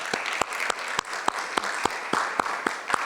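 Church congregation gives a round of applause during a service, a steady wash of clapping with distinct loud individual claps punctuating it, close and continuous for a few seconds.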